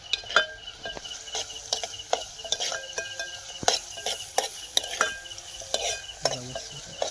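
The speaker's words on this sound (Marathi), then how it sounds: "कांदा पूर्ण शिजून घेत आहे मी ढवळता आहे" Onion and garlic frying in oil in a pan, stirred with a utensil: soft sizzling throughout with repeated scraping and clinking strokes of the spoon at an irregular rhythm, close and moderately loud, no talk.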